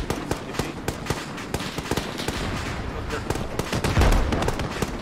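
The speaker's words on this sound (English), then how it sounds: "There is enemy fire coming from the northeast hill, so watch your ass." Dense bursts of enemy gunfire from the Arma 3 battlefield on Altis, rapid cracking shots layered close and loud with overlapping distant reports, continuing steadily throughout.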